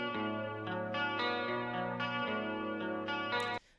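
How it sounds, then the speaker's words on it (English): Clean electric guitar with a chorus effect plays a steady run of sustained picked notes, shimmering and fairly quiet, that cuts off abruptly near the end. "you have this clean guitar with chorus on it"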